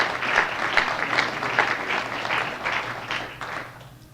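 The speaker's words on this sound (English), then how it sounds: "Please give her a warm round of applause." Audience applause at an event where guests are introduced, a dense steady round of clapping that holds strong and then tapers off near the end.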